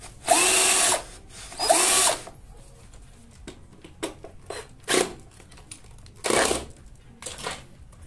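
A power drill bores into a wardrobe door held on a homemade drilling jig, with two sustained whirring bursts followed by several shorter, sharper drill pulses and handling noises between them, close up and without speech.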